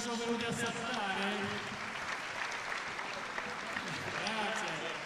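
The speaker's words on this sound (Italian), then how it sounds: "facciamo un applauso alle nostre autorità che ci sono venuti a salutare" At a 2019 music recital, an audience applauds local authorities with a steady patter of clapping, while voices talk and call out over it throughout.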